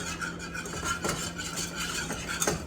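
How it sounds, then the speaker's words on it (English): Provolone cheese sauce stirred constantly in a pan for a steak sandwich, with a utensil scraping and tapping against the pan in light irregular strokes over a faint low hum, fairly quiet and without speech. "we got to keep stirring constantly"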